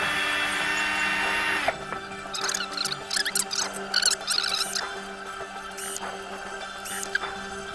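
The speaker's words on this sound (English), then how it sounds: "I just use a cordless drill" A cordless drill spins a brass 300 Blackout cartridge case during reloading, a high, steady whine broken by short rattling bursts and a few sharp clicks.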